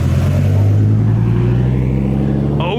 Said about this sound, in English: can feel the exhaust from his dumps in your chest. Got the Viper rolling out, man.